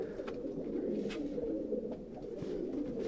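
Domestic Punjabi pigeons coo steadily in a soft, continuous low murmur, with several birds layered together close by in their loft, and no voices present.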